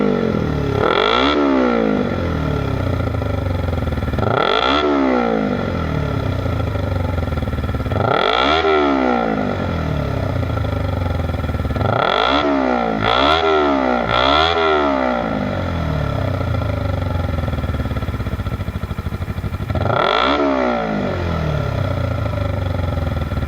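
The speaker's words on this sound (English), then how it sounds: "Just a quick rev." A motorcycle with a budget aftermarket exhaust, recorded close up, is revved repeatedly, each blip rising sharply and falling back to a busy idle, including a quick triple burst.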